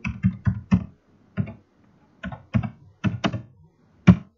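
Keys clicking on a computer keyboard while entering a course section heading, a few separate bursts of fairly close, crisp taps with short pauses between, no talking.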